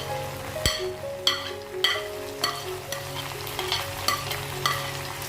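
Ginger garlic paste fries over a high flame for Assamese chicken with a constant crackling sizzle. Periodic scraping strokes from a stirring spoon cut through the sizzle, and no one speaks.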